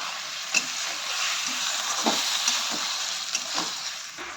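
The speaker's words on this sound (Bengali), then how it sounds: "এবার এতে দিয়ে দেবো গুলে রাখা সসটা, যেখানে আমরা টমেটো সস, সয়া সস এবং চিলি সস মিক্স করে রেখেছি" A mix of tomato, soy and chilli sauces stirred into chilli chicken frying in a pan: loud steady sizzling with repeated scraping stir strokes and small clacks of the spatula, close up and without talk.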